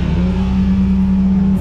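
A Ford Focus Mk2 race car engine runs steadily during a trackside noise test, loud and close with a sustained droning tone and no talking.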